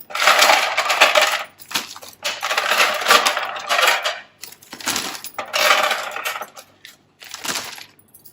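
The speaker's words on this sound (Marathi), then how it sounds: "परत याच्यावर आईस क्यूब टाकायचे" Ice cubes clatter into a container over milk and salt while making homemade ice cream, arriving in several loud bursts of rattling clinks separated by short pauses.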